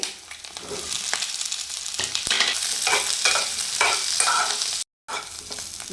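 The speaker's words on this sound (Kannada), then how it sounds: "ಸ್ವಲ್ಪ ಎಣ್ಣೆ ಹಾಕಿ ಈಗ ಈರುಳ್ಳಿ" Onions fry in a little oil in a pan with a steady, fairly loud sizzle and crackle while they are stirred. The sound cuts out briefly near the end, and there is no talking.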